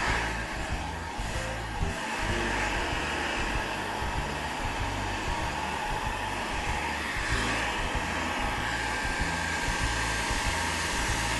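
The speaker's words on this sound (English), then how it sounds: "I'm gonna use my blow dryer and my comb," A blow dryer runs continuously at close range, a loud steady whooshing hum with slight shifts as it moves, no talking.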